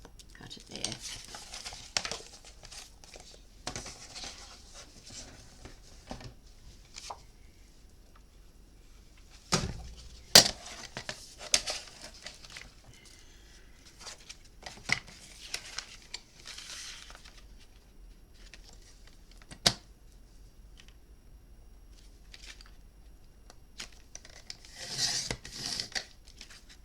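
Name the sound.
cutting paper with scissors for a mini album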